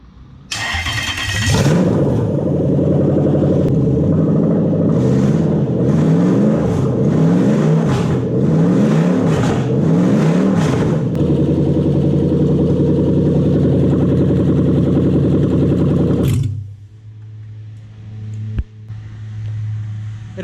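A Toyota 1UZ VVTi V8 mounted on a test engine starts and runs loudly, with repeated revs rising and falling before it drops back to a lower idle-like hum and then cuts.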